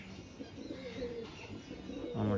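A young pigeon from a Teddy breed cooing close by in a home loft, soft repeated low coos with a few chirps, growing louder toward the end.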